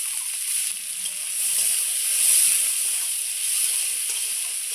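A finely chopped medium onion fries in hot oil for a pointed gourd dish, giving a steady, even hiss of sizzling that swells slightly midway, with no talking over it.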